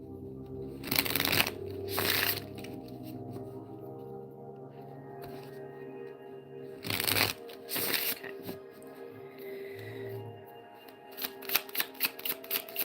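Tarot cards being shuffled during a reading, soft riffling bursts and papery rustles, with a louder flurry of quick card snaps near the end, heard close under a quiet background.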